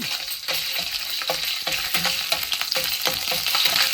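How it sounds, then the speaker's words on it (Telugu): Ginger garlic paste sizzles and fries in a pan for a fenugreek leaf and chana dal curry, a steady close crackle broken by a few stirring scrapes of a spoon, with no talking. "అల్లం వెల్లుల్లి పేస్ట్ వేసుకొని పచ్చివాసన పోయిన దాకా వేగనిచ్చి"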